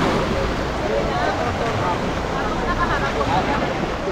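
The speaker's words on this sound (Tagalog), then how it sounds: "Ganda ng alon mga kachabs." Ocean waves at a Cebu seaside spot, a continuous broad wash of surf heavily mixed with wind buffeting the microphone, loud and steady throughout with a voice partly over it.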